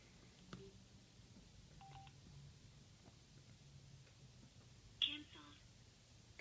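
Speed-dial tones from a Sena 20S motorcycle Bluetooth headset: a few short, quiet electronic beeps spaced apart over a faint background hum, followed by a slightly louder tone burst near the end.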